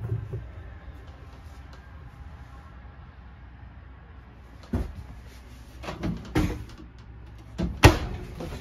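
Cupboard doors and drawers are opened and shut inside a 2021 Geo Pro 19FBS travel trailer, with a series of sharp knocks and thumps clustered in the second half after a quiet stretch.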